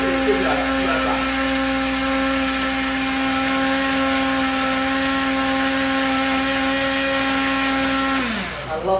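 An electric blender grinds tahini with salt and pepper, giving a loud, steady motor whine with strong tonal hum that runs throughout and winds down in pitch right at the end.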